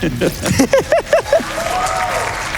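Audience applause at an Awesome Games Done Quick speedrun event during a DOOM Eternal run, arriving as a steady wash of clapping and crowd noise after a quick series of rhythmic voiced whoops or laughs.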